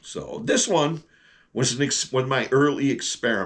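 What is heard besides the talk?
No distinct noise like a dog, phone or traffic.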